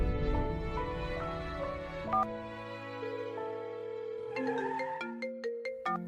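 A phone plays a melodic ringtone, a sequence of clear electronic tones that rises and falls across several seconds, alone without talk.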